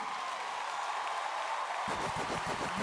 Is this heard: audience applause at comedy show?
yes